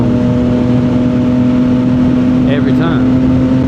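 A 2025 CFMOTO 675 SS motorcycle with a full exhaust idles close by with a steady, even drone, and a brief voice near the end.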